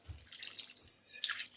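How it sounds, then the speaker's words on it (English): Water is poured over a leg of lamb in a roasting pan, giving a brief run of close splashing and dripping sounds, with no talking. "I'll add in some water and I will allow it to cook slowly"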